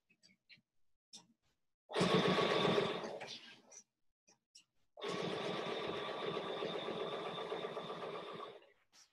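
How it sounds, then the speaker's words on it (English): A sewing machine stitches binding along a fabric edge, running in two steady buzzing bursts of about three and four seconds separated by a short pause with faint clicks. "I've just got the edge of the foot on the edge of the fabric. I'm just sewing along."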